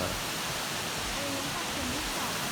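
Steady, dense rushing of the second tier of a waterfall at Pilok near Ei Tong village, a constant hiss of falling water with a voice speaking briefly over it.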